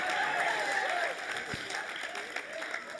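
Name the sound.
applause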